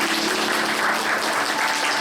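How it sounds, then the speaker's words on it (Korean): A congregation at a Korean church youth worship service claps together in blessing, a full, even wash of applause lasting a couple of seconds. "축복의 박수하겠습니다."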